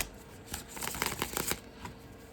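A Shadowscapes tarot deck is riffled and bridged close to the microphone, a quick flurry of papery card flicks that builds to a crisp cluster and then settles into quiet.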